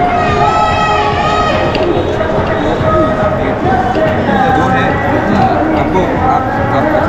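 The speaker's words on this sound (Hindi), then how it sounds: "भाई पीछे भीड़ देख लो, इतने सारे लोग।" Large crowd outside an India vs Pakistan Cricket World Cup 2023 match in Ahmedabad, a dense, loud, continuous murmur of many voices and calls.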